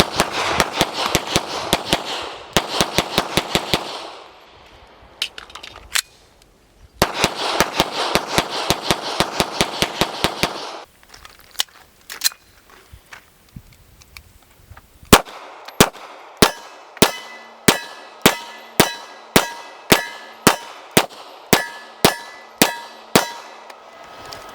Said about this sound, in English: now we'll drop a little lube in it and then we'll go back to shooting